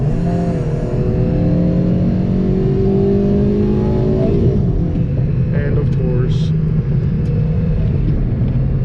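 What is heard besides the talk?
Honda Civic engine revving into VTEC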